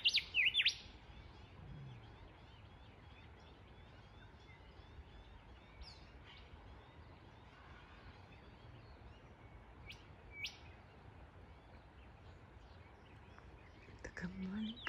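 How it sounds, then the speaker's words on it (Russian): A small bird chirps outdoors in short, thin tweets, with a few sharp calls near the start and end over quiet background noise; a soft voice is faintly present. "Маленькая-маленькая птичка."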